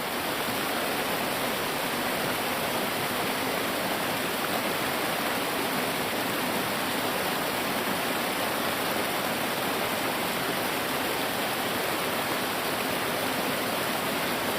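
Athirappilly waterfall roars in a steady, dense, unbroken rush of falling water, loud and continuous throughout with no voices.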